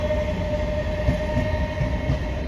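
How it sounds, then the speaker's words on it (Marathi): A passenger train bound for Panvel rolls past steadily, a continuous rumble and rail clatter with no pauses, close and loud, with no talk. "ही बघा ट्रेन चालली बघा पनवेलची"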